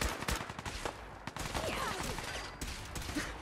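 Gunfire in the modded video game Fallout 4, with a quick burst of close shots followed by scattered cracks and combat noise over a few seconds. A voice is faintly present underneath.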